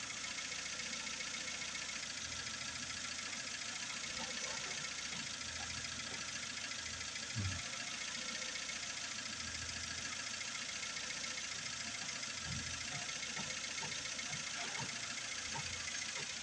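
A warmed-up Honda CR-V engine idles steadily, with its fast idle thermo valve the focus of the work. It gives a faint, low, continuous rumble with occasional soft knocks and no talking.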